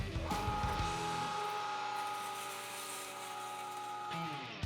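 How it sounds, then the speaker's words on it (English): A meat grinder churns ice through its auger after grinding bratwurst meat, a steady whirring motor hum with a grinding rattle that eases slightly over several seconds. "we're going to send about a half a cup of ice through the grinder just to push out all that extra"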